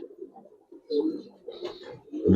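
Giribaz and coloring pigeons coo nearby in soft, low, throaty bursts that swell and fade irregularly, with a little background murmur between calls.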